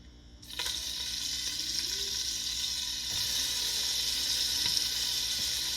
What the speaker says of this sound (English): I'm about to saute these veggies.